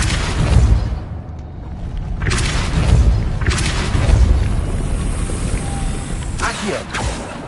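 Depulso spell blasts cast in Hogwarts Legacy, several booming thumps spaced a second or two apart over a rumbling game background.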